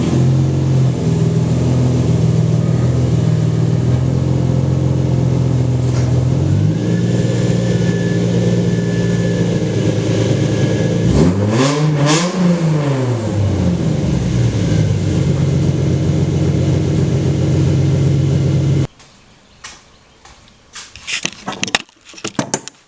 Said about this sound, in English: pull it the rest of the way in the garage